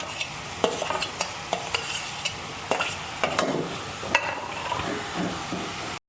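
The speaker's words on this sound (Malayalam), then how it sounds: "പച്ചമുളക്, ഈ എടുത്തിരിക്കുന്ന പച്ചമുളക് ഇട്ട് കൊടുക്കാം. ഇഞ്ചി ഇട്ട് കൊടുക്കാം. പിന്നെ ഈ വെളുത്തുള്ളി കൂടി ഇട്ട് കൊടുക്കാം." Green chilli, ginger and garlic frying together in a pan, a soft steady sizzle punctuated by sharp clinks and scrapes of stirring, without any talking.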